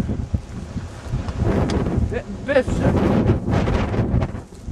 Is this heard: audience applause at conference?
no